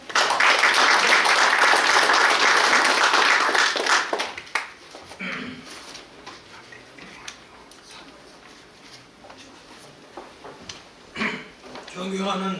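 Applause from a ceremony audience at the founding event of a Korean civic association, a loud dense clatter of clapping for about four seconds that fades into sparse claps and murmuring, with a few scattered bursts near the end.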